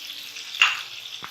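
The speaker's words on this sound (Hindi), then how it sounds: "ये 4-5 मिनट टमाटरों के साथ और मसालों के साथ हमने इसको भून लिया है" Chicken fries with tomatoes and spices over high heat, giving a soft steady sizzle with one brief sharp stir or scrape in the middle and a fainter one near the end.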